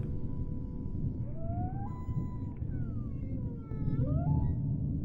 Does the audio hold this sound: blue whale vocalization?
yes